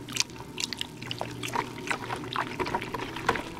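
Homemade laundry detergent mixture being stirred in a bucket with a coffee stirrer, giving soft liquid sloshes and drips in irregular bursts, close and fairly quiet, with no talking.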